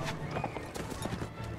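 Horse hooves in the video game Mount & Blade: Warband, a quick run of clip-clop footfalls with a brief whinny over about two seconds, moderately close with no one talking.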